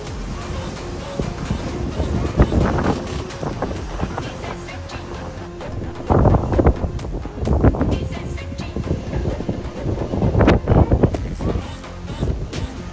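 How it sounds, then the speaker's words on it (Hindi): Strong gusty wind before a storm in Rishikesh, a loud rushing roar that swells and eases in several surges over the full length, with a voice briefly heard. "अभी तक केवल हवाएं चल रही है, कहीं भी एक बूंद नहीं पड़ी।"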